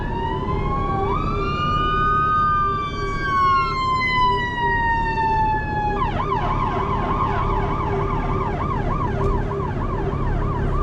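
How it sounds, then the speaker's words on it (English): An ambulance siren wails with rising and falling sweeps, then switches to a rapid yelp, loud and close over steady traffic rumble. "there's an ambulance going by"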